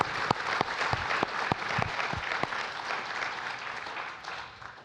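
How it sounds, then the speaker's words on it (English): Audience at a conference on World War II breaks into applause, a few sharp separate claps at first swelling into a dense, loud round that fades slightly toward the end. "And I think that that deserves a round of applause."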